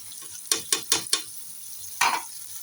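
Masala and tomatoes stirred in a pan for Punjabi cooking: four quick scraping strokes, then a short pause and one longer scrape, set against a faint sizzle.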